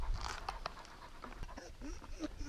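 A large dog pants steadily at close range while a person talks to it.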